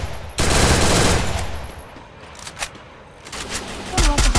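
Automatic gunfire in a shooting video game rattles out in a loud, sustained burst, thins to quieter scattered shots, and then picks up again at the end.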